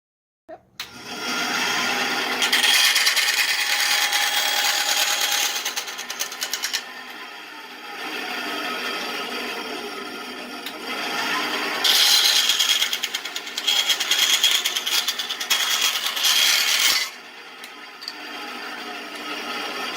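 A bandsaw whines loudly as it cuts through wood, in long sustained bursts with short easing pauses between passes.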